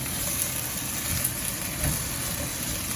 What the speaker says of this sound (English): As you guys can see, I do fry my veggies.